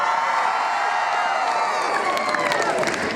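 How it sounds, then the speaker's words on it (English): A graduation crowd cheers and whoops in a large hall, a loud continuous wash of voices and shouts with scattered claps, sustained throughout. "That cheer was just a really enthusiastic duh."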